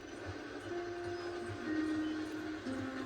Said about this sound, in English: The train is slowing down to go through the station.